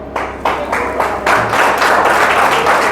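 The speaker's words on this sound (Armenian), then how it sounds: "տեսնենք ծափեր կտան" Gathered guests at a family celebration break into applause, a dense run of claps with regular pulses that swells and holds steady, close and loud, with voices mixed in.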